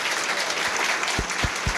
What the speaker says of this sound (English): that's worth applauding